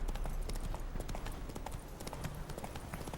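Horse hooves in The Witcher 3 as a horse runs along a forest trail: rapid, continuous clip-clop with a fast galloping rhythm over a steady background, no clear talk.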